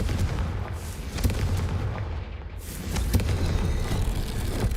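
Blasts from the Confringo explosive spell in Hogwarts Legacy, a series of booming fiery impacts over a dense, rumbling game soundtrack, with sharper bursts near the start and around the three-second mark.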